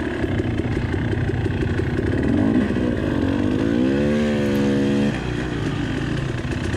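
A dirt motorcycle ridden on the Triangle Trail at Red River Motorcycle Trails, its engine droning loud and close without pause, the pitch climbing and holding as it revs, then dropping back to a steady rumble.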